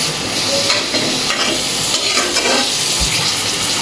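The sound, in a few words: vegetables added to fried spice masala, sizzling in pan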